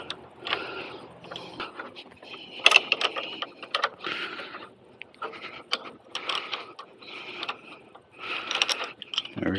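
A bicycle pedal on a Rad Mini crank is spun in by hand, giving a run of light clicking, ratcheting metal rattles in uneven bursts, close by, with brief pauses between turns.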